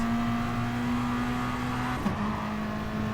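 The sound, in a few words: race car driving in video game GT Sport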